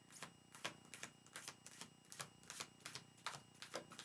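Rapid, crisp clicking bursts of tarot cards being shuffled, a dozen or so snappy riffles in an uneven rhythm, close and fairly quiet, with no talking.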